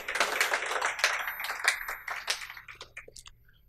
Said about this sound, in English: Can we give the Lord a clap offering?